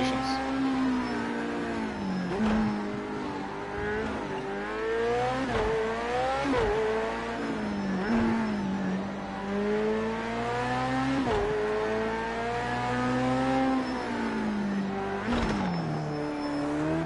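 A race car engine in Project Cars 2 revs and shifts repeatedly in wet, flooded conditions, its loud close whine rising and dropping through gears in a steady rhythm with no talk over it.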